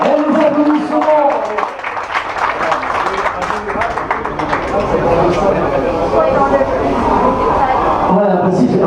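Audience applause at an awards ceremony for the 2019 Tour des Landes cycling time trial in Geaune, a steady crowd clapping that fills the whole stretch, with an announcer's voice over it.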